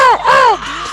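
A person imitates a crow's caw with their voice: two loud, close, harsh nasal calls that bend downward in pitch, one right after the other, with nothing else heard.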